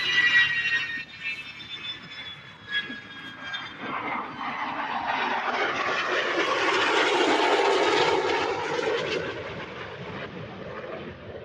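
A Grumman Albatross amphibian lands at the Oshkosh airshow, its piston engine roar swelling to a loud broad drone near the middle of the pass and then easing off. Faint high whines sound early on.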